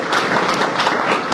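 Sustained applause from a crowd at a hospital press meet in Kochi, honouring a doctor, with dense steady clapping throughout at even loudness.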